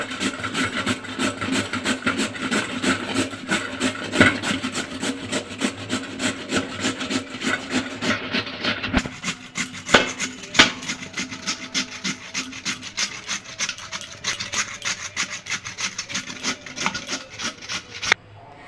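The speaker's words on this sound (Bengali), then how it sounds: "গেটারের বড়টা দিয়ে আমি আলুটাকে গ্রেট করে নেবো" Potato grated on the large side of a grater for aloo pyaz pakora, a long run of fast, rhythmic rasping strokes, close and steady, with a brief pause around the middle; no speech.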